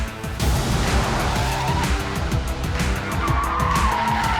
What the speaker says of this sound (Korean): 자, 코너 들어갑니다. 와, 지금 아까보다 훨씬 고속으로 가고 있거든요.